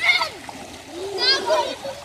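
Water splashes and swirls in a shallow outdoor stream, with a voice and other chatter over the sloshing close by.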